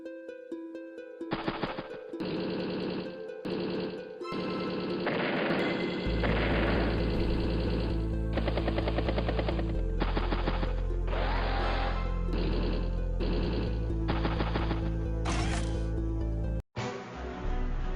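Rapid bursts of gunfire from an anti-air tank in the Advance Wars: Days of Ruin video game, repeated salvos over a loud game music bed with deep booming layers.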